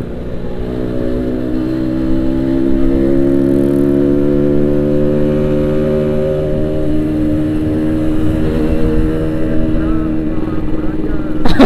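A Yamaha RX-King motorcycle with a loud aftermarket Boban exhaust idles and revs up close, with a deep, rumbling tone, holding a strong throbbing drone for several seconds.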